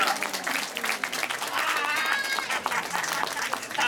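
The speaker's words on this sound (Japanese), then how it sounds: "みんなで拍手。" Audience applause at a Tokyo DisneySea stage show, steady crisp clapping from many hands throughout, with faint voices and a bit of music in the background.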